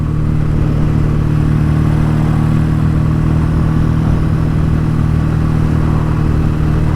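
A BSA A10 650 Super Rocket motorcycle engine idles steadily up close after a carburettor tune-up, a constant low throbbing drone with a faint mechanical clatter, unbroken for the whole stretch with no voices.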